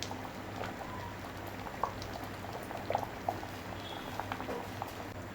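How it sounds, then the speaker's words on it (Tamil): Sambar with tamarind simmering in a pot, a steady low bubbling with scattered small pops and plops, close and continuous with no talking. "நம்ம புளி ஊற்றின சாம்பார் நான் கொஞ்சம் கொதிக்கட்டும், நல்லா கொதிக்கட்டும்."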